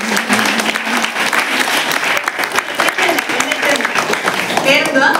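Loud, sustained applause from an audience at an agricultural project inauguration in Kerala, dense clapping throughout with voices mixed in underneath.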